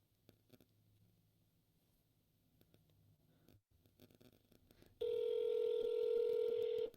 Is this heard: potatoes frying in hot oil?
no